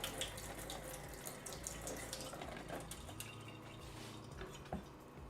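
Tap water runs steadily over a large green bell pepper at a kitchen sink while it gets a quick wash, a soft continuous splash with faint drips, no talking.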